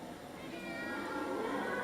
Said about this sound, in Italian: Ma lo sentite anche voi? Che cos'è questo miagolio? Sono davvero gatti!